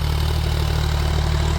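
A John Deere 5105 tractor of about 40 HP runs steadily while pulling an 8.5-foot Maschio rotavator, its engine a continuous loud low drone with no pauses and no voices.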